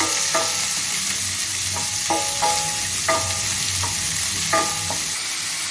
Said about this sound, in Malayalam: നമുക്ക് 2 ഉള്ളി ചെറുതായിട്ട് അരിഞ്ഞ് നമുക്ക് ഇതിലേക്ക് ഇട്ട് കൊടുക്കാം.